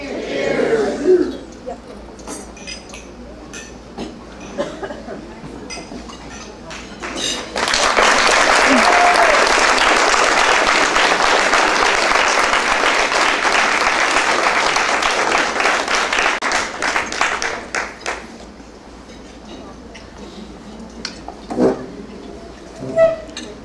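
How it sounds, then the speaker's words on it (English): Wedding guests break into loud, sustained applause for the maid of honor's speech, a dense wash of clapping lasting about ten seconds before fading out, with talking before and after. "How about another round of applause for the maid of honor?"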